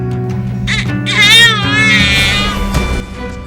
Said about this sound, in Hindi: अपने 3 वर्षीय मासूम बच्चे की तेज रोने की आवाज सुनकर